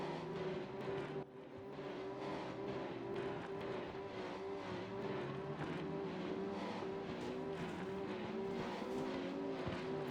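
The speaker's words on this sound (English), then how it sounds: "That is not a healthy engine sound." A Nissan Skyline R32 race car engine runs and revs on the Lausitzring circuit in a continuous, uneven drone with a rough, pulsing tone, heard faintly and from a distance, with no one speaking.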